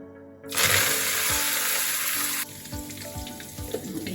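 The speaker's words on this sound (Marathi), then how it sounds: "आता आपल्याला कोथिंबीर तळून घ्यायची" Coriander leaves dropped into hot oil burst into a loud, dense sizzle, then settle into a steadier, quieter frying hiss with small crackles, close by, for a Marathi puffed-rice shev chivda.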